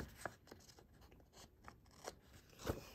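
Scissors trimming paper for a planner, faint, close snips and crisp paper rustles scattered irregularly, ending with one sharper cut.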